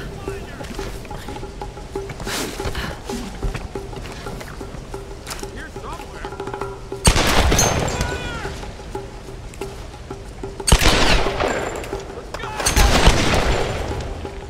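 Gunfire in the Tomb Raider video game, set in a flooded vault: loud bursts of shots at about seven, eleven and thirteen seconds stand out over a steady, droning game ambience, with a voice present at times.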